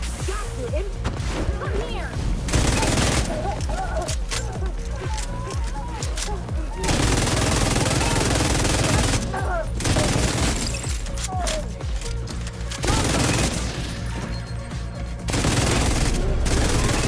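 A Pestilence machine gun fires in Division 2, sustained loud bursts of gunfire broken by short gaps, with a voice talking over the shooting.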